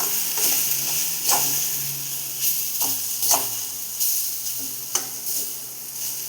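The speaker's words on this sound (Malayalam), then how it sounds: "രണ്ട് മിനിറ്റ് അതിൻ്റെ പച്ചമണം മാറുന്നവരെ ഒന്ന് ഇളക്കി കൊടുക്കും." Ponnanganni spinach thoran stirred in a pan, a low continuous sizzle broken by repeated close scrapes and taps of the spoon at an irregular pace, with no voices.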